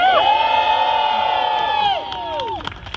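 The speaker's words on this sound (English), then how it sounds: "So a big round of applause for yourselves, for ourselves, for everybody here, please. Just one big cheer." A rally crowd cheers and whoops in one sustained burst of shouting voices that fades out after a few seconds, with scattered claps at the end.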